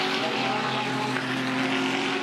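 GT race cars lapping at the Bathurst 12 Hour, a loud sustained engine drone with steady high revs and no break across the short stretch.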